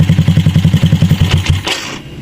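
A Yamaha Vega Force FI motorcycle engine idles with a rapid, even thumping pulse up close, then sputters through a few uneven knocks and falls silent as it is switched off.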